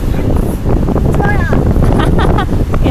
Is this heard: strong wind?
yes